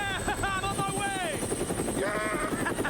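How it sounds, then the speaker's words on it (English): Helicopter in a Capcom horror remake video game, a continuous rotor drone under game audio with sweeping tonal effects and a voice over it. "You know exactly what's gonna happen to that helicopter."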